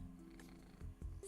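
A male cat, recovering from a recent procedure, purrs steadily and close up, a low continuous rumble with a few soft bumps and no talking.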